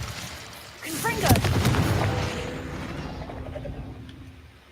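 Fiery blast and booming impacts of the Confringo spell in Hogwarts Legacy, a loud burst of sharp bangs with a crackling tail that fades over a few seconds.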